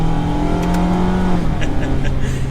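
A Mazda MX-5 Miata engine at full throttle, pulling with a loud steady drone that rises slightly in pitch, heard close from inside the car, cut off near the end.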